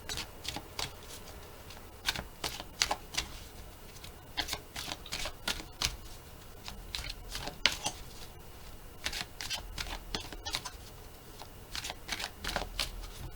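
A deck of oracle cards being shuffled and cut, with steady papery riffles and flicks and sharp card snaps scattered throughout, close and fairly quiet, with no talking.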